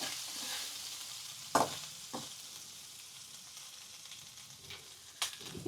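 Kachori filling of fennel seeds, boiled peas and chili flakes stirred and sautéing in a pan over a low gas flame: a quiet, steady sizzle broken by a few sharp scraping knocks, with no talking.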